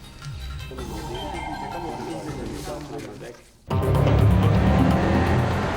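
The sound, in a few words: AC Schnitzer BMW 6 Series Coupe driving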